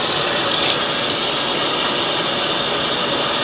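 Water streams steadily from a kitchen tap while rice is being prepared for cooking, a continuous bright hiss close by with no speech.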